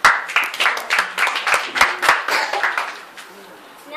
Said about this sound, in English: Please, round of applause for the ministers.